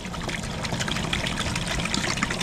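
Water pours steadily into a gallon container for calf-pen cleaning mix, a close, continuous splashing trickle with no pauses.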